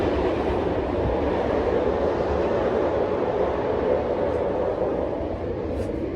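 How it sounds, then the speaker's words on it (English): A train rumbles past close by in a continuous, loud roar of wheels on track, steady throughout with no voices. "The sound of the train."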